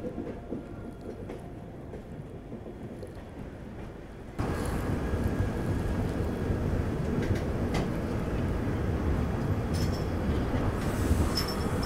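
Vistadome glass-coach train on the Araku Valley route, a steady rolling rumble of wheels on rails with faint squeals, growing abruptly louder partway through as if entering a tunnel.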